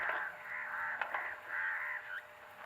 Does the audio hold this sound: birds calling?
yes